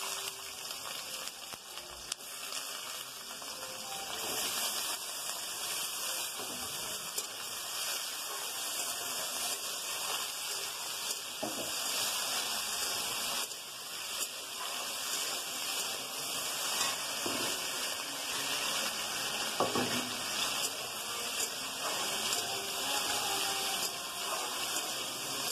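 Potatoes fry in oil tempered with black cumin seeds, a continuous even sizzle and crackle at moderate level for the whole stretch, with no one speaking.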